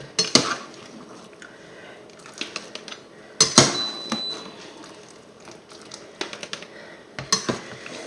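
Vegetables clatter into a plastic water carafe in a few bursts of clinks and knocks, with lighter rustling handling sounds between them and no talk.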